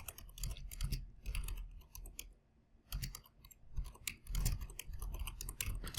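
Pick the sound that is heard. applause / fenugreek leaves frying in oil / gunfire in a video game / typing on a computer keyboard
typing on a computer keyboard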